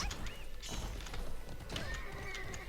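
A horse in the video game Alicia Online whinnies twice in quick succession amid clip-clopping hooves and a few clattering knocks, fairly close and clear.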